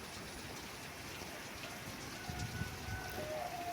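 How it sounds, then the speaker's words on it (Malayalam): Heavy rain with wind pouring down steadily, a dense continuous hiss of drops on surfaces with a few louder splashes and knocks near the end. "മഴ എന്ന് പറഞ്ഞാൽ പോരാ, പെരും മഴ."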